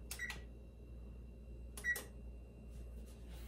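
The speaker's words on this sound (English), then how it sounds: "We need to preheat oven." Electronic beeps from a kitchen oven being set to preheat, two short quick clusters of high tones a second and a half apart, then faint fainter beeps, over a low quiet hum.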